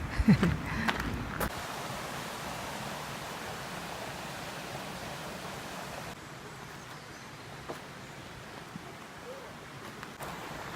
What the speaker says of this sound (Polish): szum strumyka